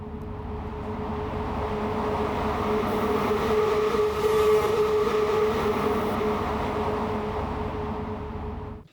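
A horror sound effect built from a sped-up, pitch-shifted toilet flush gives a sustained, rumbling whoosh with a droning tonal whine, swelling steadily for about nine seconds before cutting off abruptly.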